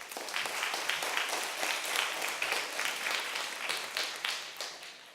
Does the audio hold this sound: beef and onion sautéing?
no